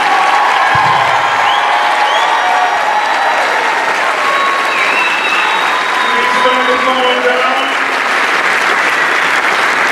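A large inauguration crowd gives a loud, dense, continuous wash of applause for Aurora's mayor-elect Richard C. Irvin, sustained throughout with voices and a brief spoken remark mixed in.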